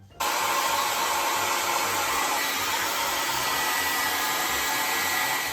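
A hair dryer starts abruptly and keeps blowing with a loud, steady whoosh and whine as it dries paint on a handmade craft gift. The sound stays constant throughout and is heard alone.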